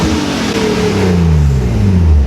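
A Nissan 370Z Nismo with an aftermarket exhaust, downpipe and intake revs loud and close, its deep engine note climbing and sweeping in pitch over about two seconds with no talk.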